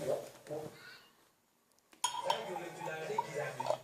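A lid is fitted onto a container with a few light plastic clicks and clinks, close by and under people talking.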